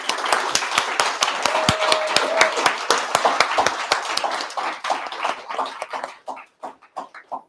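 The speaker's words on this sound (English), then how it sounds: "Another round of applause, please." Graduation showcase audience giving a round of dense hand clapping that stays steady, then thins into scattered separate claps before fading out.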